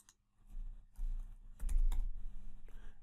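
Quick bursts of keystrokes on a computer keyboard, close and fairly quiet, with short irregular clusters of clicks and brief pauses, no talking.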